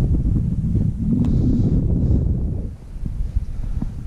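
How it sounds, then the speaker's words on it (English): Wind buffets the microphone outdoors on a fishing trip, a steady heavy low rumble that runs throughout and eases slightly near the end. "This wind."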